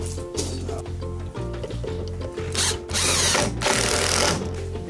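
A screw gun drives screws to fasten a light bracket inside an indoor tortoise enclosure, giving loud bursts of whirring motor with short pauses and louder, sustained driving toward the end.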